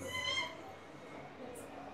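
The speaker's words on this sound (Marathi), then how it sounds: "बोका आहे का मांजर आहे?" A cat gives a short meow early on, fairly close, followed by quiet room noise.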